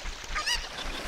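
Chicken clucking from Zelda: Ocarina of Time, a short bright squawk near the middle of a brief clip, set against steady game background noise.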